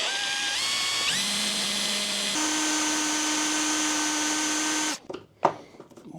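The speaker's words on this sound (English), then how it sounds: "I have no other choice but to use a drill bit and actually drill the screw out" A power drill bores out a stripped screw on a Bosch washing machine, a loud high whine that rises in pitch in steps and holds for about five seconds before cutting off, followed by a few short clanks.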